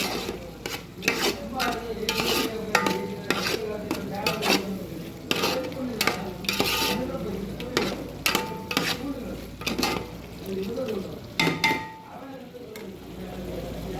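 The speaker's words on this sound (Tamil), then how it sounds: "உப்பு சேர்த்து நல்லா கிண்டி விட்ருக்காங்க" Mutton pulao masala with yogurt and salt being stirred in a metal pot, with a busy run of spoon scrapes and clinks against the pan over a low sizzle that continues close and steady throughout.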